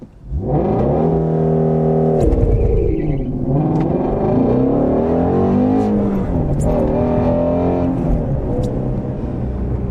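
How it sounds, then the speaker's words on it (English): A Shelby Mustang GT350 launches hard from a standstill with the clutch dumped, its engine roaring loud and close, climbing in pitch through revs, dropping briefly at a shift or wheelspin, then surging again continuously without talk. "just dump the clutch and take off"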